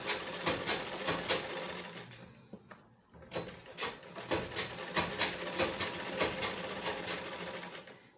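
Sewing machine running steadily as it stitches fabric for a shirred, smocked top, a continuous close mechanical whirr with a rapid needle rhythm that pauses briefly midway before resuming.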